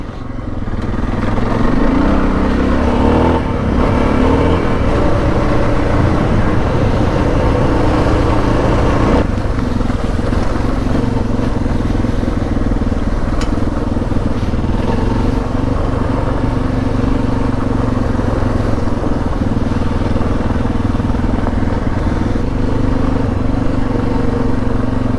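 A dual sport adventure motorcycle engine drones loud and steady for the whole stretch, a close, continuous ride at easy putting speed with no talk over it.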